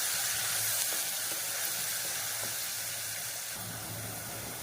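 Onions sautéing in a pan for chicken white curry, a steady broad sizzle and hiss that runs unbroken throughout with no talking.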